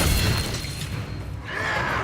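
A spell effect from the Hogwarts Legacy video game, Expelliarmus, rendered as a dense crackling burst with a low boom at the start, followed by a brighter, whooshing shimmer near the end.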